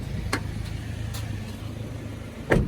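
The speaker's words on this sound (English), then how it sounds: "2007 Toyota Tacoma from the auction. I'm just gonna let this thing sit here and run out that half a tank of gas" A 2007 Toyota Tacoma pickup idles nearby with a steady low engine rumble, broken by a few faint knocks and one louder thump near the end.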